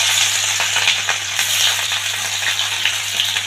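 Garlic fries in hot oil for a kharkol dish, making a loud, close, steady sizzle with soft stirring movements and no voices.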